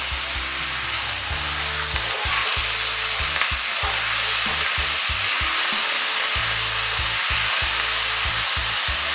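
Slices of fresh beef and lamb hit a smoking, oiled pan for Old Beijing-style griddle-roasted meat, giving a loud, steady close-up sizzle broken by repeated low knocks and scrapes as the meat is quickly turned.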